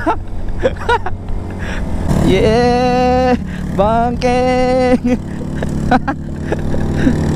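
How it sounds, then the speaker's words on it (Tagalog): A taho vendor's motorcycle passes with a loud engine, its revving harmonics rising and falling in two strong bursts close by, mixed with other engine noise and excited talk and shouting. "Grabe, lakas ng motor niya."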